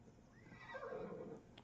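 A horse in Assassin's Creed Odyssey gives a quiet, distant-sounding whinny, a single rising-and-falling neigh heard faintly and alone.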